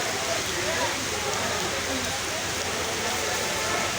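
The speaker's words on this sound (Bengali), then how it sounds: "বৃষ্টির লিগে আবহাওয়া খারাপ" Rain falls steadily around a fish market, a constant even hiss that stays level throughout with no distinct drops standing out.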